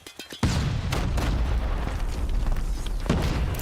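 Grenade explosion in Call of Duty Mobile, a loud close boom after a brief quiet lead-in, with a sustained rumbling blast and a further burst near the end.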